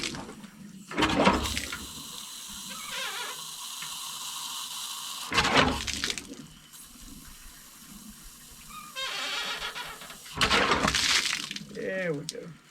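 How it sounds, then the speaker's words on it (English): A hand pump is worked to prime an irrigation pipe with water drawn up from a river on a farm, bursts of gurgling, splashing and rattling water with metallic clunks between quieter stretches. "We're gonna take turns on this pump pumping it, and it's sucking the water all the way up from out there."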